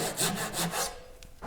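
A hand saw cutting out the waist of a dovetail joint in wood, a few quick rasping strokes close by, then a short pause.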